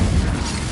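A Confringo fire spell in Hogwarts Legacy bursts in a short, loud, booming blast that fills the moment with dense low rumble.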